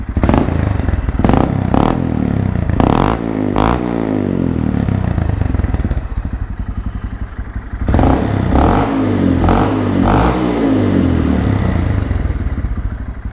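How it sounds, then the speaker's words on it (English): A Honda Grom 125cc motorcycle idles with its exhaust burbling nearby, broken by repeated sharp revs in clusters, loud and close with clattering mechanical undertones. "that exhaust sounds really neat also"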